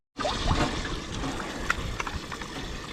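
Water is poured over a freshly caught crappie on Bull Shoals Lake, a sudden splash followed by steady close trickling and dribbling that runs on to the end.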